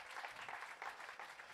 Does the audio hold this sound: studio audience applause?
yes